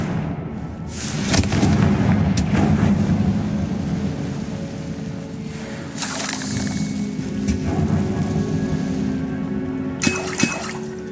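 In Hogwarts Legacy, the Confringo fire spell explodes with several loud crashing blasts. They land around one, two, six and ten seconds, each with a shattering, rumbling tail that echoes like thunder.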